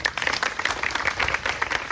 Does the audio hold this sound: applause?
yes